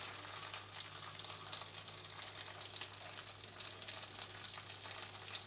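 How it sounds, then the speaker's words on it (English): Minced garlic and meat sizzle steadily in hot vegetable oil in a pan, a dense, even crackle heard close and alone, with no talk. "So let's heat it up, and then I'm going to put in some minced garlic."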